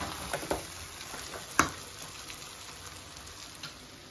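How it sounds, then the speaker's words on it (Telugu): Chicken frying in a pan with a steady close sizzle and spattering, a few sharper pops and stirring clinks standing out, no talking. "ఫ్రై అయిపోయింది చూడండి చికెన్, బాగా కలర్ వచ్చేసింది."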